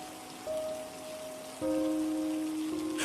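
A cartoon-style light drizzle effect gives a soft patter of rain, laid under sustained electronic tones that step up partway through and get louder.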